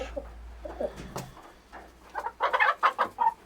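Chickens cluck and squawk nearby in a series of short bursts, growing louder and busier toward the end, with low background rumble.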